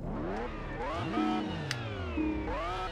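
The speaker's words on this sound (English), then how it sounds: "I don't like that turbocharge noise" A turbocharged car engine revs up and down repeatedly in Test Drive Unlimited on PS2, rising and falling pitch with whooshing turbo whine, loud and continuous.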